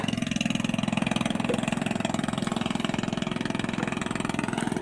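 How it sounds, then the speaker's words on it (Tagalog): A steady, rhythmic chugging of a motor boat engine, close and fairly loud, holding an even pulse throughout. "may bangka guys na dumaan guys"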